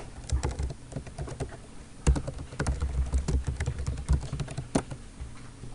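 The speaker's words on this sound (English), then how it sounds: "I'm going to start typing" Rapid, uneven clatter of keys being typed on a computer keyboard while entering footer text for a PowerPoint slide, close and moderately loud, with bursts and brief pauses and no talking.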